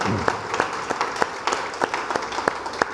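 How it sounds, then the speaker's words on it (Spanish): A church congregation applauds with sharp, rhythmic claps rising above a steady bed of clapping, lively and fairly close, with no talking. "Le damos un aplauso al Señor"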